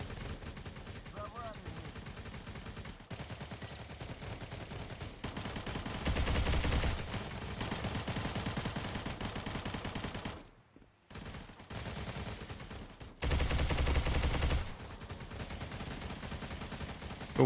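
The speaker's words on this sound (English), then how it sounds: "Who is shooting? Who's the enemy here?" Rapid gunfire in the video game Stalcraft, a near-continuous rattle of shots across the whole stretch, with two louder, denser bursts and a brief pause between them.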